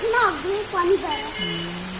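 Rain falls outdoors in a steady, hissing patter underneath a woman's lively speech, and a low hum enters near the end.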